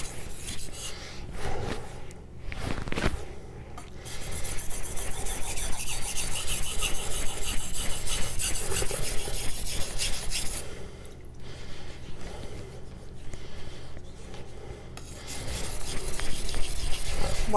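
ZDP189 knife steel sharpened by hand on Nano Hone synthetic whetstones, heard close up as repeated gritty rasping strokes in an uneven rhythm, with brief pauses between passes.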